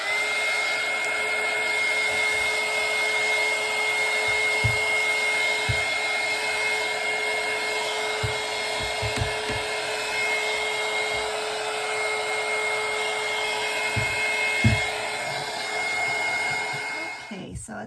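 A hair dryer blows hot air over freshly stained wood with a steady, loud, close whirring hiss and a high tonal whine, broken by faint knocks and handling bumps, before it cuts off at the end.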